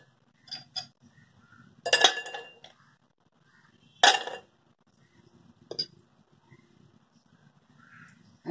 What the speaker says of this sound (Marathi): ग्लासामध्ये बर्फाचे तुकडे टाकत आहे।